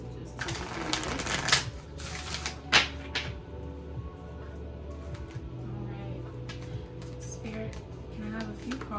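Starseed Oracle cards shuffled by hand during a tarot reading, with a few quick, close papery riffling bursts in the first three seconds, then only soft handling noise over a steady low background hum.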